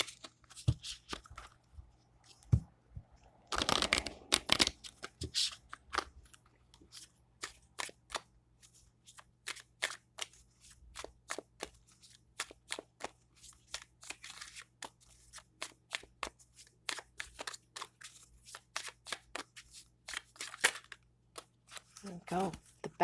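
Animal spirit oracle cards are shuffled and pulled by hand: soft, close clicks, snaps and riffles in irregular bursts, including one denser flurry, over a quiet background with occasional faint talk.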